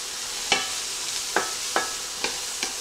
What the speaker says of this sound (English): Oh, sizzle, that's what you wanna hear.